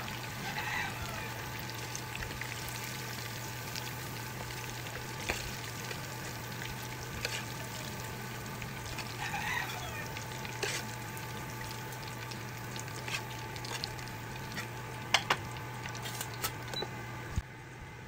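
Chicken necks deep frying in oil make a faint, continuous bubbling sizzle with a low hum and scattered small clicks and pops.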